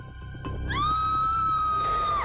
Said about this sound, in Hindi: बच्चे की चीखने की आवाज।